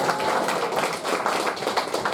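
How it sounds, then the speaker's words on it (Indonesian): Crowd applause for the commander at a Jakarta online motorcycle-taxi drivers' arisan gathering: a steady, dense patter of many hands clapping throughout, fairly close and even in loudness. "tepuk tangan untuk Pak Komandan"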